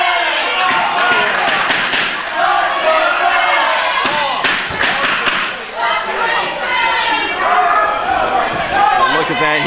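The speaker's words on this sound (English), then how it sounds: "fans cheering for Tank Toland." Fans cheer for boxer Tank Toland at a boxing match, a loud, sustained crowd roar with shouts and scattered thuds rising and falling throughout.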